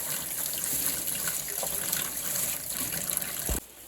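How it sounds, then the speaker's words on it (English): A kitchen tap runs steadily while a sirloin roast is washed under it. The water gushes in one continuous, close stream, then cuts off abruptly near the end. "So just go ahead and wash your meat."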